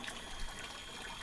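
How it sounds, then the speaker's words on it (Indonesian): Water from a village water spout trickles and splashes in a steady continuous flow, close and moderately loud, with no talk over it. "make pancuran ya untuk keperluan sehari-harinya untuk bersih-bersih"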